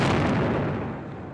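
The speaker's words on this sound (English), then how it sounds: "Cell phone footage shot by a spectator between the 2 explosions." A homemade bomb goes off at the Boston Marathon, caught on a spectator's phone as a loud, booming roar that slowly dies away with no voices.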